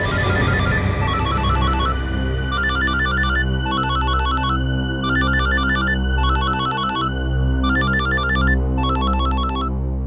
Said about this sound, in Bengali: হ্যাঁ, ওই ফোন করেছে।